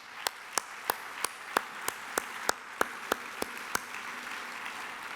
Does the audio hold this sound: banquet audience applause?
yes